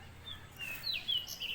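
Swiftlets call near their nests, where they guard their eggs: a few faint, thin chirps come and go against a quiet background.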